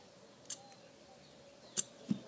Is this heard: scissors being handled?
yes